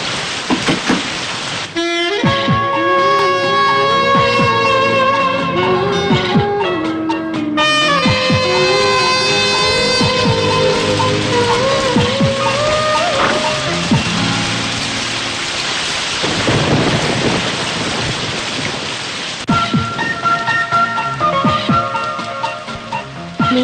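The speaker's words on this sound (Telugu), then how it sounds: "వర్షం పడుతుంది" Heavy rain with rumbling thunder in a Telugu comedy film scene, heard as a steady wash beneath a loud, continuous musical score that dominates throughout.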